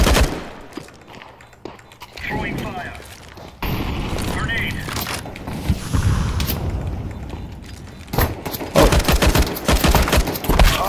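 Gunshots in Counter Strike 2 during a competitive round, scattered single shots and a heavier rapid volley near the end, mixed with game noise and people talking over it.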